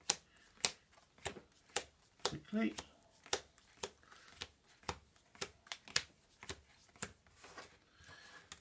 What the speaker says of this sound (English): which is shuffling these cards